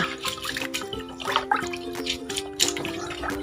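Food being washed and squeezed by hand in water, with close sloshing and dripping splashes in irregular bursts and wet squelches, no talk.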